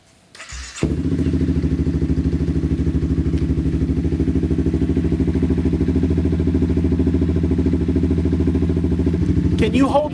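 A 2016 Honda CBR300R flat tracker build, running on a jumper battery, cranks briefly and fires up, then settles into a loud, steady, close idle with a rhythmic pulsing note until a voice speaks at the end.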